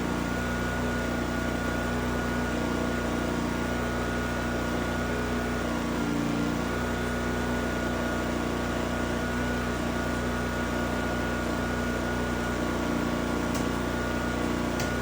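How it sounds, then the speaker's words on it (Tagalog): A PK7500i generator runs steadily, giving a loud, continuous droning hum with a fixed tone that holds unchanged throughout, with no voices. "At ngayong running na yung generator natin"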